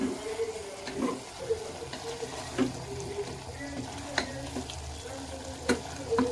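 Marinated mutton fries in a pan while being stirred, giving a soft continuous sizzle broken by periodic scraping and clinking strokes of the spoon every second or so, near and moderate in level, with no clear talking.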